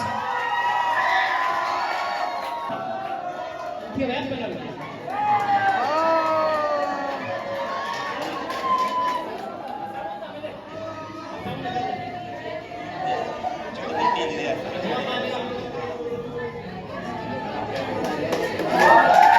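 Students at a school Teacher Day celebration cheer, whoop and shout as a crowd, with bursts of excited yelling and chatter rising and falling over about twenty seconds, fairly close and lively.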